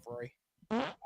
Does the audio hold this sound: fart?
yes